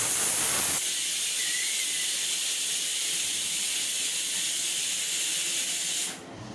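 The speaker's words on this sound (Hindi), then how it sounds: "मैं कुकर की सीटी लगा के उसे 3 सीटी आने तक छोड़" A pressure cooker on a gas stove vents steam in a loud, continuous, steady hiss that cuts off abruptly near the end.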